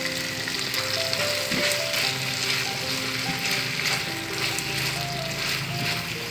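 Oseng mercon is stir-fried with whole chilies in a hot pan, a dense continuous sizzle with scraping stirs and clinks of the utensil against the wok, close up and steady throughout with no voices.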